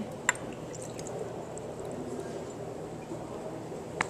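Vinegar poured over chalk in a graduated cylinder for a chemistry experiment, a faint steady trickle and fizz with two sharp glassy clinks at the start and end, no talk.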